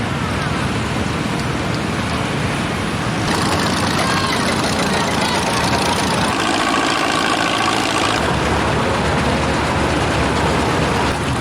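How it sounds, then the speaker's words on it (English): A large diesel engine rumbles steadily nearby, a deep continuous drone that shifts in tone partway through as the machine works. "Man, look how big that tractor is."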